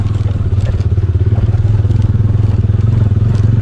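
A motorcycle rides off-road over rocky ground in Pakistan's Naltar Valley, its engine thrumming steadily and loud up close, with rattles and thumps from the stones beneath the wheels.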